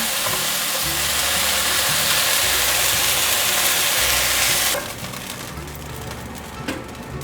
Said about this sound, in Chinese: 总共4面都让它煎成焦黄色